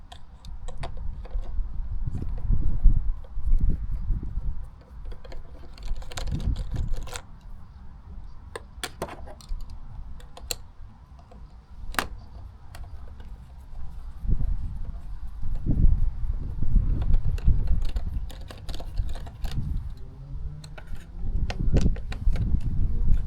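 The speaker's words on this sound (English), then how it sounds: "Now to open the filter box we're gonna need to unscrew 4 bolts" Small metallic clicks and taps come from a wrench turning the four bolts on the air filter box of a Honda CB125F motorcycle, scattered irregularly over a low background rumble.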